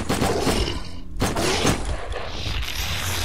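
Gunfire in the shooter game Lost Alpha, a dense burst of close, loud shots followed by a brief pause and more sustained firing, with no talk.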